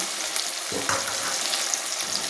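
Steady sizzling of a ground onion, ginger, garlic and tomato paste frying in hot oil, broad and continuous, with a brief stirring scrape partway through.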